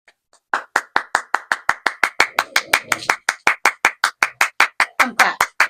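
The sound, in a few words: audience clapping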